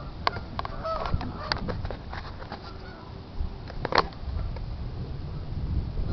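A flock of geese at a lake honking in irregular bursts, some calls loud and near, others fainter, over a steady low outdoor rumble with no talk.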